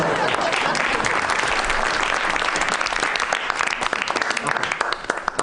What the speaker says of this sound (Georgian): გააჩერე მეთქი ტაში